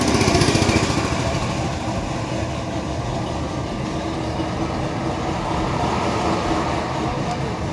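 A 1957 Chevrolet Bel Air with a 350 V8 and a chromed, rebuilt carburetor and intake runs steadily at close range, giving a loud, even rumble with no break throughout.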